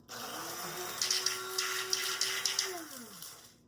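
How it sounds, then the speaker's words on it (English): An electric grinder whirs through dried hops and chamomile, a steady motor hum rising and falling over about three seconds, with rattling of the herbs as the grinder is shaken. "I put it in my grinder."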